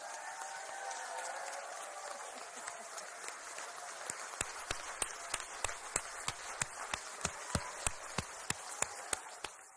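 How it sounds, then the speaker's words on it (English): A crowd at a new city council swearing-in applauds, a broad wash of clapping that gives way to a run of evenly spaced, crisp claps. "Now we can do a big round of applause."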